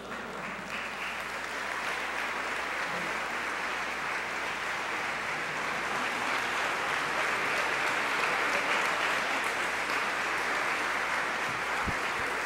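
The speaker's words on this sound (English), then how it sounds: "let's give her another warm round of applause" Sustained warm applause from a large audience honoring Mother Tainetta Muhammad at a Nation of Islam gathering, steady and full throughout with no talk over it.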